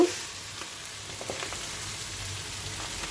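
A spice masala sizzles steadily in a hot pan for a chickpea and capsicum dish, a close, continuous crackle with a few soft stirring scrapes and no talking.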